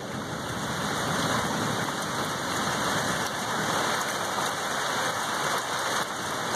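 Heavy rain from a severe storm in Florida pours in a steady, dense roar with no breaks, loud and close throughout, with no voices.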